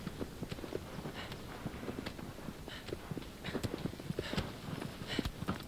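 A horse's hooves clip-clop steadily across the ground in Shadow of the Colossus, a brisk irregular stream of sharp knocks at moderate distance with no talk.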